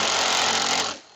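A power tool runs steadily, loud and close, as bolts are removed with a 10mm socket from mounting brackets while installing a ProFormX Challenger HD rear seat on a Club Car golf cart, then winds down abruptly near the end.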